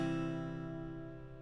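One guitar chord is strummed with all strings ringing together, sustaining clearly and slowly fading away over about a second and a half, close and alone.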